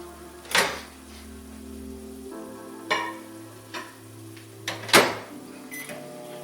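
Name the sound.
microwave oven running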